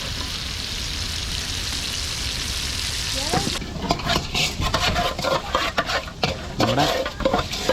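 Masala-coated seer fish and mackerel fry in a pan on a stove at Dhanushkodi; a steady hiss breaks into loud, crackling sizzles and spatters partway through, close up, with brief talk.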